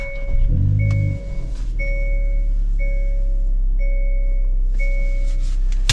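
A 2023 Hyundai Kona N engine cranks and fires with a short burst, then settles into a steady low idle heard from inside the cabin while a warning chime repeats over it.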